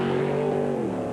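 A big Chevrolet off-road race truck engine revs loud and steady at a desert off-road race, its low rumble holding constant then dropping slightly near the end, with no talk over it.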